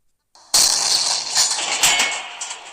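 A tank cannon fires in Roblox WW2 Tank Simulator: one sharp, loud blast erupts after a short silence, followed by a crackling, rolling decay with a couple of smaller bursts as it fades.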